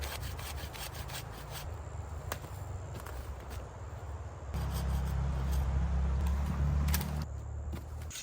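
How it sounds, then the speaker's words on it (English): A cheap portable folding saw cuts through wood in the Australian bush, giving close, repeated rasping strokes in a steady back-and-forth rhythm that grows heavier partway through. "Now you have a little portable saw."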